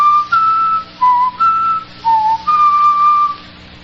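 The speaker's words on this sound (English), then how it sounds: "Let me see if I can whistle those notes written in the musical theme." A man whistles a short musical theme of several sustained, clear notes in a few phrases with brief gaps, close and alone, with no talking.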